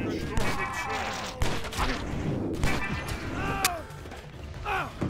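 Gunfire in the John Woo Stranglehold video game, a rapid string of sharp shots and impacts with mechanical clatter amid busy action sounds, loud and close.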